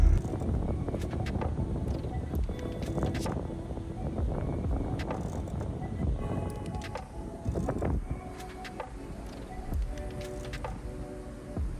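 Hybrid diesel-electric ferry underway: wind buffets the deck amid a broad wash of engine and water noise, with scattered knocks and clatter throughout and no speech.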